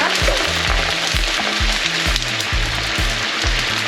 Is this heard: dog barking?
no